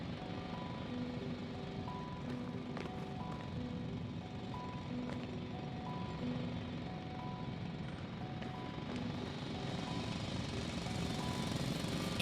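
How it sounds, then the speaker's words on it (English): Loud industrial drill in the sci-fi game The Invincible: a continuous heavy mechanical roar and rumble with a steady droning texture and faint tonal beeps over it, growing slightly stronger toward the end. "It's a drill."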